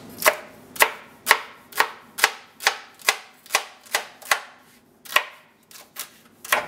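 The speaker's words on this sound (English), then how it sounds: "Take my celery, split it." A knife chops celery on a cutting board in steady, crisp close-up strikes, about a dozen sharp knocks at an even pace that slows and spaces out toward the end, with no voices.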